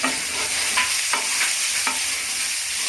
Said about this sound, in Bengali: আমি বেগুনটা দিয়ে এবার মটরশুঁটিগুলো দিয়ে দেবো